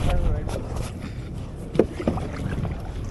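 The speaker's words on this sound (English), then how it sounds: "if you want to turn to your right, just keep paddling on your left side like that" Kayak paddle strokes dip and splash in the Onkaparinga River near Adelaide, with a couple of distinct watery plunges among wind buffeting on the microphone and faint nearby voices.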